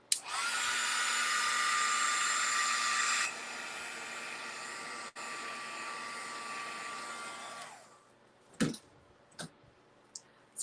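A hair dryer blows steadily to dry paint on a painted Charger car, a loud continuous whoosh that drops to a lower setting midway, then cuts off, followed by a few faint clicks.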